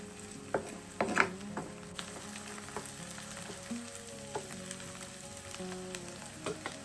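Onion fries in hot oil while being stirred, a close crackling sizzle broken by scattered clicks and scrapes of the utensil against the pan, with no speech.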